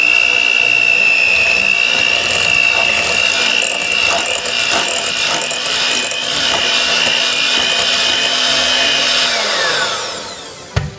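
An electric mixer creams room-temperature Philadelphia original cream cheese, with a loud, steady motor whine and rattling beaters close by. The mixer runs continuously, then winds down and stops at the end.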